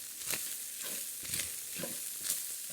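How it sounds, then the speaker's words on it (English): Minced garlic, minced ginger, thyme, turmeric and allspice sizzling in a pan for a Jamaican patty filling, a constant close frying hiss broken by a few rhythmic scraping stirs. "Got some thyme, some turmeric, I've got minced garlic and minced ginger. And so give that a bit of a stir."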